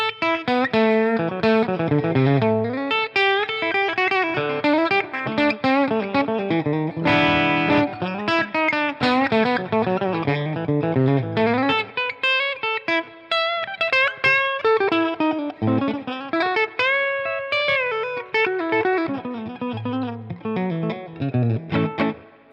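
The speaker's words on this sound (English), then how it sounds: "I like to have an old Telecaster to compare it to my vintage tele pickups" A vintage 1954 Fender Telecaster electric guitar played with effects and some distortion, bright twangy notes and chords ringing out continuously and fairly loud, no talking.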